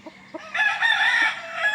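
An NUDC gamefowl broodcock crows close by, a loud, drawn-out cock-a-doodle-doo that follows a few short clucks at the start.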